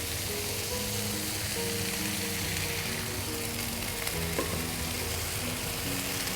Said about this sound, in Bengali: মুরগির মাংস, বেগুন একই সাথে ভাজা হচ্ছে।